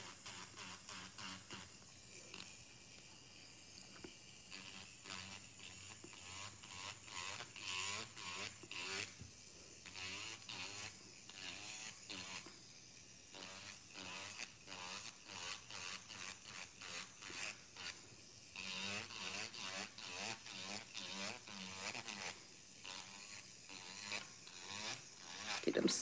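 An electric nail drill with a sanding bit, set to low speed, files down fingernails in a nail fill session, giving a continuous whirring buzz in repeated strokes with brief pauses throughout.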